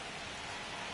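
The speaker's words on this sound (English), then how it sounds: "It really feels like we might be running out of time before a rain delay is called. This rain is not letting up." Rain falling during a baseball game in the MLB 25 video game, a steady soft hiss of continuous rainfall at low level with no other sounds.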